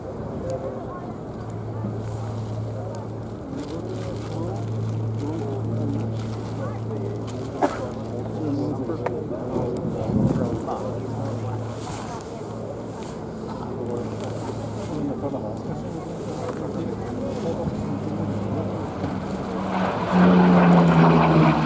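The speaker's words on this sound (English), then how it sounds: "P7, a Mark II Spitfire, she actually fought in the Battle of Britain" An RAF Battle of Britain Memorial Flight Mark II Spitfire, a Battle of Britain veteran, flying at the RIAT airshow: a steady propeller-engine drone that holds for the whole stretch and swells slightly near the end, with talk over it.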